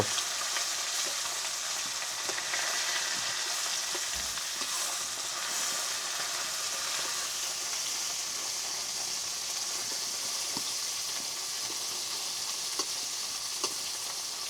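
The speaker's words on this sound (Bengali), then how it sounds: "এই তো মুসমুসে মাছ ভাজা, এটা তাজা কই মাছ তো।" Fresh koi fish fry in a pan over a wood fire, giving a steady, fairly soft sizzle and hiss that runs throughout with faint crackles and no talking.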